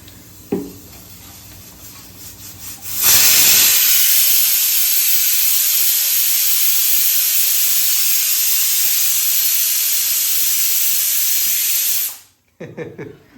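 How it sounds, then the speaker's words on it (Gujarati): A pressure cooker whistle blasts steam while dal cooks for dal makhani, a loud, steady hiss lasting about nine seconds that cuts off abruptly, with faint kitchen clatter before and after. "વિસલના અવાજમાં સંભળાય નહીં એટલે ચૂપ થઈ ગઈ"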